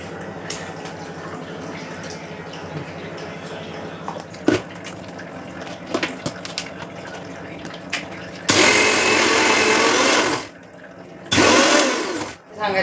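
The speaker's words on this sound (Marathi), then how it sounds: "आता हे बॅटर वाटून घेते बारीक मिक्सरमध्ये" A kitchen mixer grinder whirs loudly while grinding soaked idli batter fine, running in two bursts of a few seconds each with a short pause between them, after quieter handling noises and brief clatter.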